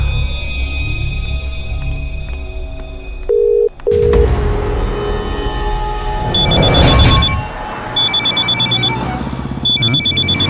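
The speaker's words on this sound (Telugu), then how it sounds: "కొత్త ఫోన్ ఫస్ట్ కాల్ రా." A new mobile phone rings with its very first call, a loud electronic ringtone with a brief tone break partway, then repeating beeping alert patterns pulsing steadily toward the end.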